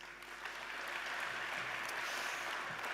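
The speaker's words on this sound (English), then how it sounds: "show your appreciation and applause to all of the finalists and the winners" At a state training awards ceremony, an audience applauds the finalists and winners. Soft, distant clapping builds after a brief pause and then holds steady and even.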